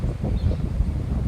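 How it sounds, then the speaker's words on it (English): Strong wind blows outdoors at Burkett Place in Minto, a low, rumbling buffet against the microphone that gusts unevenly through the short moment. "As you can see, it's pretty windy out here."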